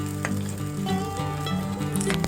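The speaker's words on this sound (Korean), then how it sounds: "프라이팬에 기름을 여유있게 두르고 두부를 튀겨주세요" Tofu fries in a generous layer of oil in a frying pan, giving a steady, close sizzle and crackle throughout, with a faint tonal melody running underneath.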